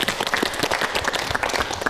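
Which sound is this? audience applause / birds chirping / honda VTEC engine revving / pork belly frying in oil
audience applause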